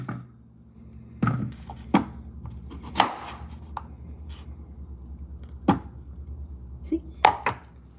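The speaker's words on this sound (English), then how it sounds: "So I'm going to cut them in like half an inch thick slices." Knife chopping through sweet potatoes on a cutting board, cutting half-inch slices: several sharp, distinct thunks spaced irregularly, close and clear over a quiet kitchen background.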